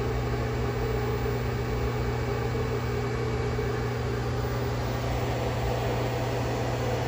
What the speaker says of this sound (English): we're running full power for this 600 watt microwave